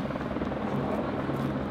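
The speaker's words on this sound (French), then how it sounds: "il y a un hélicoptère par là-bas qui est en train de mettre de l'eau à gauche à droite" Helicopter flying nearby on a morning in Valais while dropping water, a steady continuous rotor drone at moderate level, with no voices over it.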